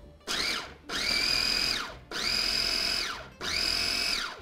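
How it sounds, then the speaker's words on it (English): A food processor pulses toasted hard pesto ingredients in four whirring bursts of roughly a second each, separated by short gaps. The motor is loud and close, with no talking. "I'm going to pulse it until it looks like sand."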